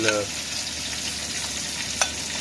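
Garlic frying in a pan alongside caramelized onions, a steady close sizzle with a faint utensil tap near the end, no speech.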